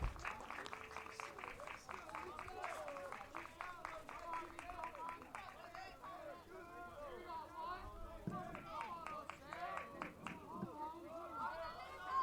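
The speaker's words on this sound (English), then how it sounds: "Concordia Chicago crowd back in it" Crowd at a college baseball regional championship game between Concordia Chicago and Baldwin Wallace, a steady roar of cheering and babble with scattered shouts and claps, rising and falling under voices for the whole stretch.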